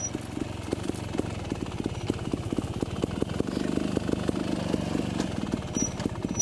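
A trials motorcycle rounds a corner, its engine putting out a steady, fairly quiet burble with rapid regular firing pulses and a small rise in revs midway, recorded from a modest distance with no talk.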